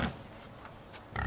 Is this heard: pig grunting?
yes